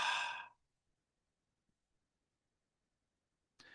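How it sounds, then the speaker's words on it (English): One long, full exhale during a breathing practice, breathy and close, fading out after about half a second into near silence before another breath begins at the very end. "A complete exhale."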